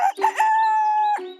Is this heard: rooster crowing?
yes